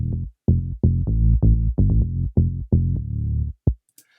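A deep synth bass plays a short, bouncy pattern of about a dozen punchy notes, some quick pairs, loud and alone with no other instruments.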